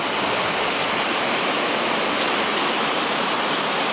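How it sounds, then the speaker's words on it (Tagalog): Loud, steady rushing floodwater pouring into a house during a typhoon, a dense continuous roar close to the microphone, with no pauses. "Mga kaday, baha na mga kaday."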